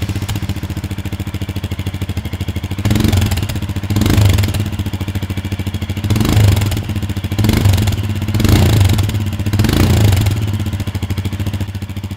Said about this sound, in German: So, jetzt machen wir das Ganze wieder mit dem Soundtest.